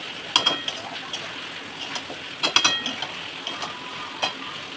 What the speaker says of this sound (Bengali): এবার আমি ডিম আলুটাকে একটু কষিয়ে দিই।